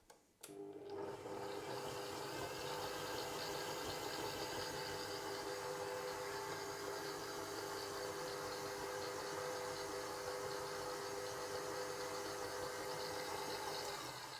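A stand mixer running on its lowest first speed whipping Baileys cream frosting, starting after a brief click and then a steady, quiet whirring motor hum with faint rubbing of the beater, unchanged to the end.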